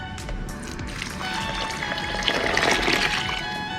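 Water from a three-litre batch pours over oranges while making homemade lemonade, a close, steady splashing gush that swells in the second half, with no speech.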